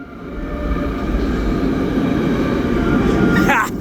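A new Hitachi-built metro train in Baltimore rolls past with a steady, loud rumble and hum of wheels and motors, a brief rising whine near the end, heard close up without speech.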